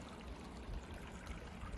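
Water flows through Trunkey Creek after recent rain, a faint, steady trickling babble heard alone at a low, even level.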